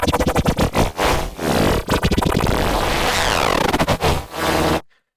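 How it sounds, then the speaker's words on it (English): Solo synthesizer run through a Ringshift effect, playing loud choppy, gated bursts of buzzy, scraping tone with brief gaps, then a sustained stretch before stopping suddenly. "I'm applying an effect to a synthesizer called Ringshift"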